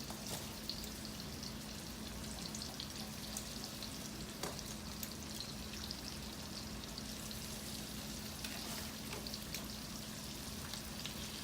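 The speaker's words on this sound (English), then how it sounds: "take your lamb chops and put them right down in the butter" Lamb chops sizzle in butter in a hot skillet, a soft, steady crackling hiss with scattered pops, close but faint, and no talking.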